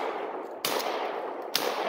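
Two sharp, loud shotgun-style blasts roughly a second apart, fired at a snowshoe hare from a long distance while rabbit hunting with beagles in New Hampshire, each leaving a broad, hissing decay, with no talk.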